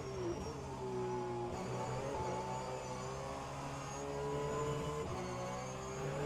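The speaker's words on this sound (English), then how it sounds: "That flat 6 is just so nice to listen to after too much of V8." A McLaren race car with a flat-six engine, heard in a racing video game during a virtual endurance race. It holds a steady, sustained engine drone with gently shifting pitch throughout, and no talk over it.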